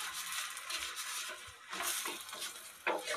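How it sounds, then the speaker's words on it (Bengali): Egg rolls frying in hot oil on a small pan, a bright crackling sizzle throughout with a few soft scrapes and knocks of turning, close and alone without talk. "তেলটা গরম হয়ে গেছে এবার আমি বেলে রাখা রোলগুলো আগে ছেঁকে নেব ভালো করে"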